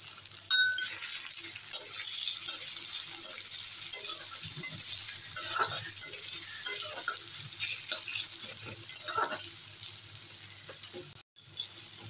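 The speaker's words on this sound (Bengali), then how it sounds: "দিয়ে দেবো পেঁয়াজ কুচি।" Chopped onion sizzles and fries in a pan while jute leaf curry is being cooked, a steady close hiss with light stirring scrapes and one short break near the end, heard without talk.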